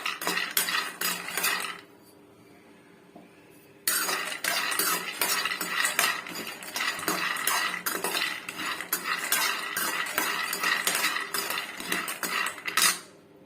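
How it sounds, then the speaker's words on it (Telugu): Peanuts being dry-roasted and stirred in a metal pan, a steady run of loud scraping and rattling clatter that pauses briefly near the start and then resumes continuously to the end, with no voices. "ఇప్పుడు శనక్కాయలు వేయించుకుందాము"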